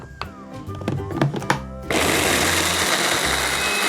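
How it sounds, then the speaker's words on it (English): A small blender blending chili starts up partway through, running with a steady loud whir after some clunking and knocking at the start. "Start to blend all the chili."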